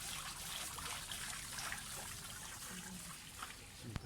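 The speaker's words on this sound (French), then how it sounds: "On repasse encore devant cette jolie fontaine" Water trickles from a pretty fountain in a garden in Yvoire, a steady, soft wash of running water close by throughout, with a faint click near the end.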